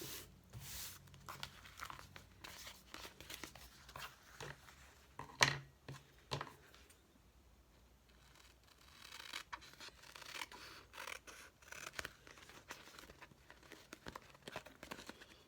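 Scissors trimming card paper, quiet close snips and rustling paper handling in short irregular bursts, with a brief louder cut partway through and faint scratching between.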